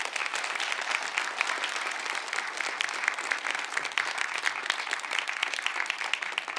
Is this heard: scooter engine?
no